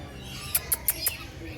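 Birds in a zoo aviary flap past in four quick, close bursts of wingbeats, evenly spaced over a quiet background, with faint chirps in between.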